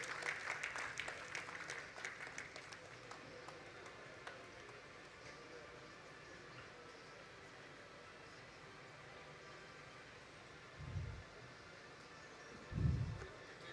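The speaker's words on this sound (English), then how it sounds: "a big, big round of applause, ladies and gentlemen" Audience applause at a conference ceremony for an MOU signing on stage, a broad wash of clapping at the start that fades into a quiet room, followed by two brief low thumps near the end.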